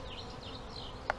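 Honey bees buzzing around a hive, a steady close droning hum with rising and falling pitch as individual bees pass, plus a short sharp tap near the end.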